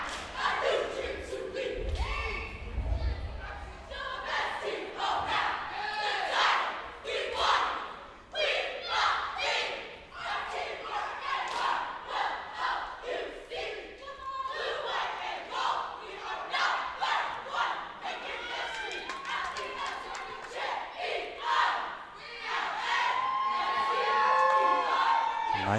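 Spectators in the stands at a Conference 13 competitive cheer semifinal at Wakefield roar, whoop and shout continuously for nearly half a minute, a loud sustained wall of crowd noise with occasional thuds from the floor.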